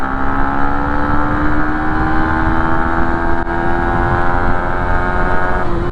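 A Yamaha Sniper 150 motorcycle engine fitted with an EASTAR SPEED ECU revs high and holds a loud, steady whine near 10,000 to 12,000 RPM, pitch creeping slowly upward throughout without pause.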